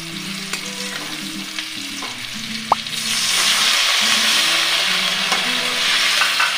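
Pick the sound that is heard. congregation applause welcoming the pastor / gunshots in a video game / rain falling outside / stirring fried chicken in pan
stirring fried chicken in pan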